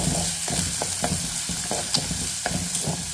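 Onions fry in a hot pan with a constant close sizzle, broken by regular scraping strokes of stirring, several per second.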